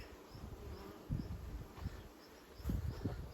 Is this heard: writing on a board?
no